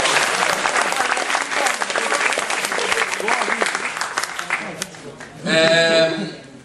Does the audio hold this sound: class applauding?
yes